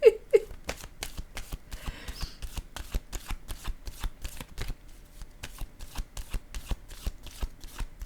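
Tarot cards shuffled for a reading, a steady run of quick papery riffles and soft taps repeating for several seconds, close and fairly quiet, with no talking.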